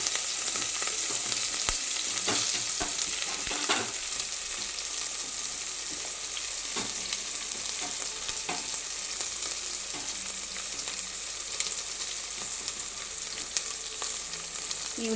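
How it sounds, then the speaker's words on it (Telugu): Onions frying in oil with whole spices such as cloves for egg pulao, a loud, continuous hiss of sizzling close up, broken by occasional scraping stirs of a spatula. "ఈ ఉల్లిపాయలు కూడా మంచిగా వేగనివ్వాలి"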